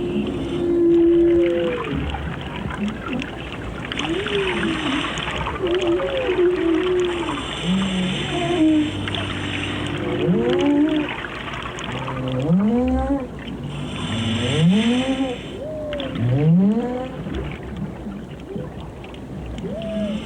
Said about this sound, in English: the whales heard a mechanical reproduction of their own song.